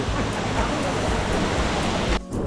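Subedar waterfall in Maharashtra, a steady broadband rush of falling water heard close and continuous, cutting out abruptly near the end.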